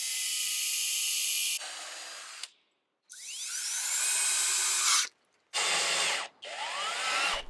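A power drill bores screw holes into an old wooden bookshelf, with several bursts of high whining drilling broken by short silent pauses as the bit is moved from hole to hole; no one speaks.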